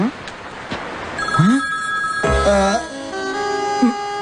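A telephone rings after a number is dialed in a comedic Telugu film scene: steady electronic ringing tones that sustain over the second half, with brief voices and other film sounds around them.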